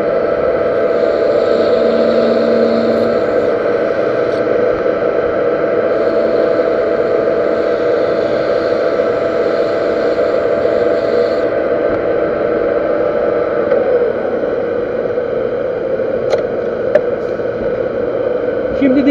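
A universal lathe runs steadily while cutting a thread on a stop bolt, producing a continuous loud mechanical hum with a high whine and faint metallic ticks near the end.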